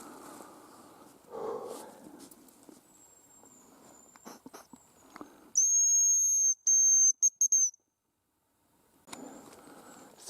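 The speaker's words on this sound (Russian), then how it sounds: "Разными свистками свищу и бесполезно." A hunter in the forest blows a hazel grouse decoy whistle, giving thin, high, drawn-out whistles, some sustained and some in short broken bursts, amid quiet rustling and soft footsteps.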